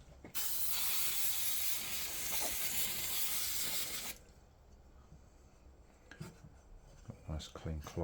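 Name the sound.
spraying brake cleaner on motorcycle part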